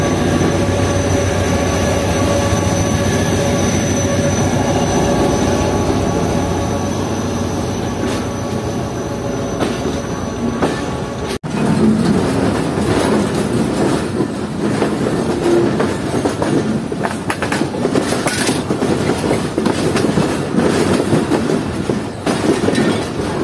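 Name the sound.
Jaffar Express passenger train running on rails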